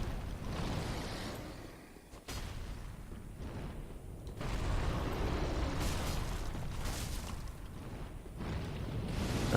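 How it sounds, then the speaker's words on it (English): An Archdragon's fire breath in Dark Souls 3, a sustained roaring, rushing blast that swells and surges over several seconds at moderate loudness, with a sharp break partway through. "And then there's that fire breath again"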